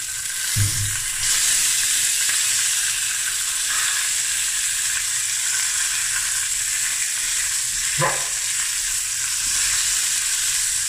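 Chops sizzle in a hot pan, a steady bright frying hiss that runs throughout, with a couple of brief low knocks as they are moved.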